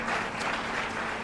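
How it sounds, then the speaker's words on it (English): Dense, continuous applause fills the room at the 9th LNMA 2022 award ceremony, many hands clapping at once in an even wash with no voices on top. "is worthy of a round of applause"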